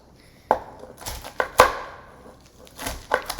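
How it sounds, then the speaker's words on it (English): Knife chopping mushroom and pasta salad ingredients on a cutting board, a handful of separate sharp chops and taps at close range, fairly quiet, with no talking. "I'm just chopping this up. Make sure you keep the tip of your knife on the cutting board."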